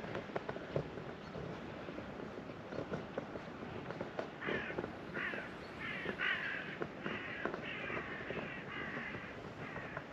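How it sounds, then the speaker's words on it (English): Morning crows caw outdoors near a sailing boat, a run of about eight rhythmic calls at a moderate distance over soft ambient background. "the birds are up"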